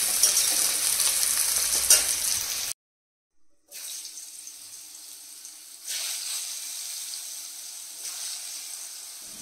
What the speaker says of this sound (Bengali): তো এখানে পটল ভেজে নিচ্ছি,